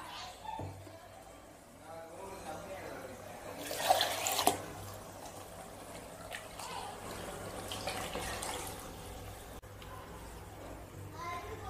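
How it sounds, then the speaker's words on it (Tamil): A cup of water pours into a pan of Tamil-style prawn curry made with ground onion and coconut masala, a brief splashing gush near the middle. The cook talks over it, with faint background voices. "கூடவே 1 கப் தண்ணி சேர்த்துக்கோங்க"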